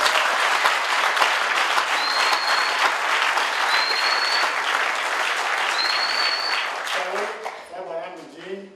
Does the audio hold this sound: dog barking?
no